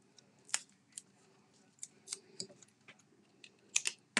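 Scissors trimming card paper for handmade card making, with a scattered series of sharp, crisp snips at irregular intervals, close and fairly quiet, and a faint rustle between the cuts.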